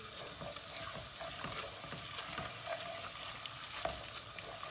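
Tomato paste and pepper paste frying in oil in a pot, a steady close sizzle with faint scraping stirs throughout and no voices.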